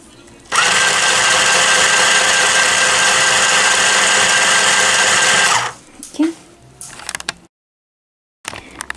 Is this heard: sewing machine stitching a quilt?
yes